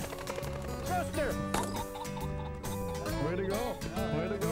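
A ringneck pheasant rooster flushes during a hunt, its cackling calls ringing out amid hunters' shouting voices and other steady tonal sound throughout.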